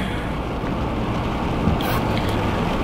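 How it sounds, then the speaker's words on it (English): Rain beginning to fall outdoors near a shop, heard as a steady, dense patter with a faint rumble beneath it, continuous and fairly loud, with no talking. "it's starting to rain."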